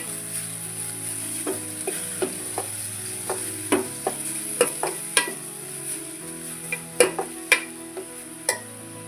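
Onions frying in hot oil for North Karnataka-style Betageri chutney are stirred with a spoon, giving steady sizzle under a run of irregular scraping clinks against the pan, close and fairly loud, with no one talking.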